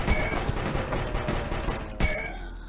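Submachine gun fire in a video game, a steady rattling burst running the whole stretch with a sharper crack near the end, loud and alone with no talk.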